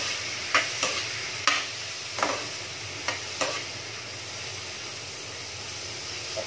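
Utensil scraping and stirring sautéed upo squash with tomato in a pan, a few quick clinks over a steady sizzle and hiss close by.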